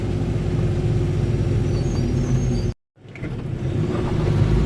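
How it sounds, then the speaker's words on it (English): A car idles and creeps along in congested city traffic in Washington, DC, a steady low engine rumble with a brief dropout midway before the droning road noise resumes. "we're stuck in traffic"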